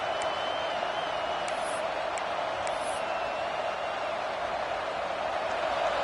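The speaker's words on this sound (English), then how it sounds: "This crowd bringing the energy and noise early." Football stadium crowd at a Nebraska game roars in a steady, dense wash of noise with a few high whistles and whoops rising above it, continuous throughout.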